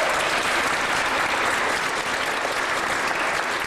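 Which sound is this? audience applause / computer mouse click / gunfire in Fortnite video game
audience applause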